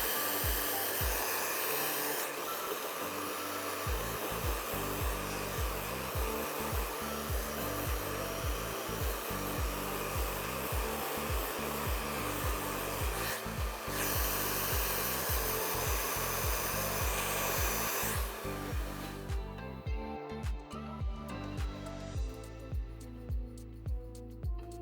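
A hair dryer blows steadily and loudly on layered hair during a blowout, its airflow briefly shifting at moments and easing near the end, with rhythmic brushing or rubbing thuds running underneath throughout.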